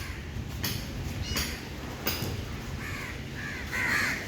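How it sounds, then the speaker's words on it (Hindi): Crows bathing outdoors give a few loud harsh caws, spaced irregularly over steady background noise, with a rougher cluster of calls toward the end. "कौवे भी नहाते हैं दोस्तों,"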